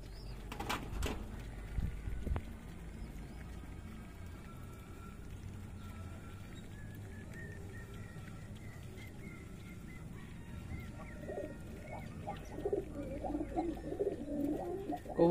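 Racer pigeons coo at a loft in Sonamasjid, Shibganj, Chapainawabganj, with soft, repeated calls over a steady low background and a few brief knocks, building slightly busier near the end.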